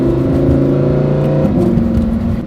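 A Lamborghini Huracan's engine drones steadily while driving, loud and close, its pitch holding and then stepping up partway through with a rising rev, with no talking over it.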